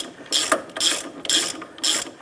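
Ratchet tightening the nut on an upper link bolt of a 2005-10 Jeep Grand Cherokee during CV axle replacement, four close, steady bursts of rapid clicking with short pauses between strokes, no talking.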